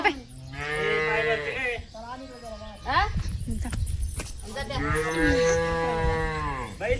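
Cattle on a farm, a calf and a bull, mooing loudly and close by in long drawn-out calls, three main moos in sequence with brief pauses between them.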